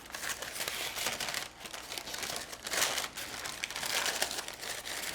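Parchment paper is folded and pressed for lining a vegan semifreddo mold, giving close, continuous crinkling and crackling with brief soft pauses.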